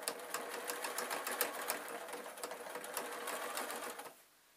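Sewing machine stitching an artist's picture quilt, a quick rattling run of needle strokes with slight uneven bursts, close and soft, stopping near the end with no talk.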